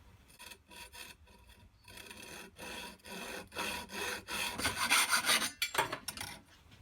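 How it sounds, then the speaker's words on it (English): A hacksaw cuts through a crutch in steady back-and-forth strokes, a close, rasping rhythm that speeds up and grows louder toward the end before stopping, with no talking. "So now we'll just use a hacksaw and cut those off."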